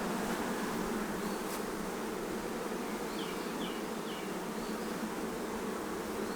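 Honeybees buzz around an open beehive during an inspection of the frames, a dense continuous hum of many insects close by, with no talk.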